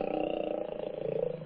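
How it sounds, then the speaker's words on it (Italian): Lion giving a deep, rumbling roar at close range, one sustained throaty growl with a pulsing texture and no voices over it. "Ah, non è un gatto, è un leone."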